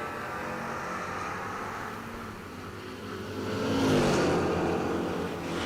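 Drag racing cars at a Six Shooter Showdown event, one a Chevrolet Camaro, roar off the line, a broad engine rumble that swells into a louder, rising surge midway before easing, heard from some distance.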